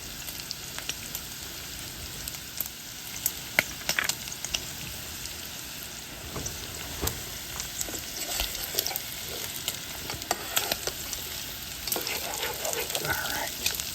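Italian sausage and gnocchi frying in sage brown butter in a pan, a steady close crackling sizzle with scattered louder pops and stirring scrapes throughout, no talking.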